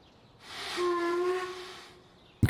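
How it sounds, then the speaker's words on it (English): Steam train whistle in the Transport Fever game, a single sustained tonal blast with hiss lasting about a second and a half, swelling and fading, fairly quiet and heard alone. "Goodness me, I like the whistle."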